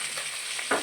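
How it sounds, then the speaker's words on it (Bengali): Chada fish frying in a wok of hot oil, a close, steady sizzle with a brief louder burst of spattering near the end. "দেখো, কড়াই মাছটা ভাজা বসিয়ে দিয়েছি"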